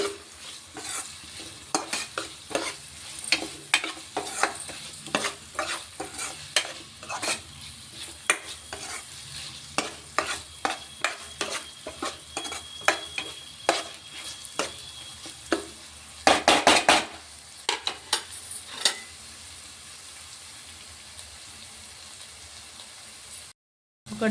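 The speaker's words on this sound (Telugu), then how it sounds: "అల్లం వెల్లుల్లి పేస్ట్ పసుపు మొత్తం మిక్స్ అయ్యేటట్టుగా కలపాలి" Ginger garlic paste and turmeric stirred in a frying pan for a thorny brinjal curry, with a long run of close, repeated clicking spoon strokes against the pan over a soft sizzle, then sudden silence at the end.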